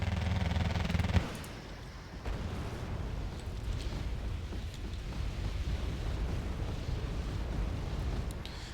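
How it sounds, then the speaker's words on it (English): Rocket artillery barrage from K136s striking in the Wargame Red Dragon battle for the Busan pocket, a loud roar of blasts dropping into a sustained low rumbling wash of impacts that continues throughout. "here comes the rocket spread for my K136s"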